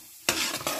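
Urad dal frying in oil in a pan while being stirred, with a sudden sizzle after a quiet start and a second burst of stirring and sizzling near the end, close and fairly loud.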